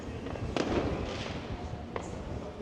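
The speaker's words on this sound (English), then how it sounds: "I'm just heading down here now because we've got fireworks going off." Two or three sharp New Year's Eve firework cracks ring out around Blackpool, distant and moderately loud, over a continuous low rumble of outdoor crowd noise.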